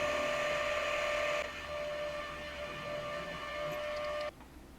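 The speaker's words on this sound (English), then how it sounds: "So drilling it out for the clearance hole." A metal lathe drills a clearance hole for a 4-40 bolt in a small Stirling engine part, giving a steady, loud whirring whine that holds for about four seconds, dips once partway through, then cuts off abruptly near the end.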